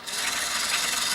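A Lyman electric case prep station starts up and runs, giving a steady, close, broadband whirring and rasping hum as its motor spins, loud and continuous with no talk over it.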